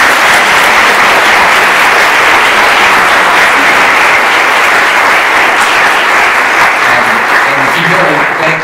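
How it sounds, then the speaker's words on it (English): An audience applauds a panel after a discussion on the opioid crisis at a school of health professions, producing loud, sustained, even clapping from many hands throughout. "Take a round of applause for them, please."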